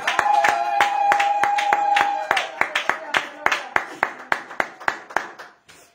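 A church congregation at a worship service claps together, first a fast, dense run of claps over singing and voices, then slower, evenly spaced single claps that ring out clearly near the end.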